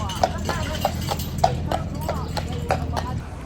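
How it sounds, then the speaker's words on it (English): Hooves of a horse pulling an old-fashioned carriage clip-clop steadily along a street in Savannah, Georgia, an even rhythm of sharp knocks at moderate distance over background street noise. "Old-fashioned horse and carriage."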